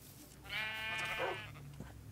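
A sheep bleats once in a Minecraft game, a single drawn-out tonal bleat of about a second, fairly clear and close, with no talking.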